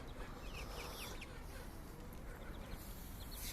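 Farm chickens cluck among other caged farm birds, with a dense, continuous mix of small chirps and calls at moderate distance over a steady background hiss.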